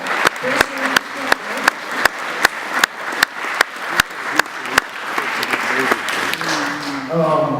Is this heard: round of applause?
yes